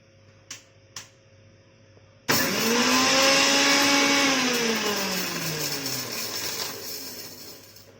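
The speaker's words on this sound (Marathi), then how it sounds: "आता आपण याच्यात थोडीशी बडी बडीशोप आणि हा खडा हिंग बारीक करून घेऊया" A mixer grinder whirs loudly as it grinds fennel seeds and lumps of asafoetida, starting abruptly after a few light clicks, with a high motor whine that slowly drops in pitch as the blades spin on.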